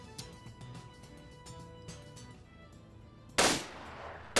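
A short burst of loud gunfire rips out near the end of a quiet stretch in a NATO-versus-USA PvP shooter match set in winter, following faint clicks and ticks.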